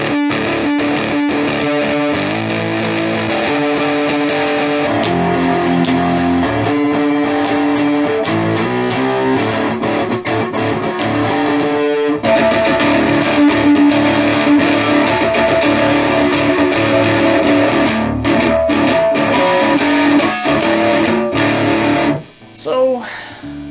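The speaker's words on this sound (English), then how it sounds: "So let's turn the distortion up to 3 o'clock." Heavily distorted electric guitar through a Behringer Heavy Metal HM300 high-gain distortion pedal playing chords and riffs continuously, loud and buzzy with a thick saturated tone, cutting off abruptly near the end.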